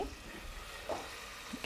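Tamarind juice hitting hot sizzling masala in a pan for sweet and sour aubergine, a brief soft hiss and bubbling with faint stirring, quiet and short.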